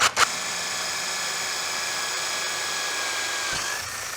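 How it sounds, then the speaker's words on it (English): A power drill bores a hole with a 3/8 inch bit, a steady loud whine that runs nearly unbroken after a brief start, close by. "I'm going to use a 3/8 inch drill bit to make my first hole."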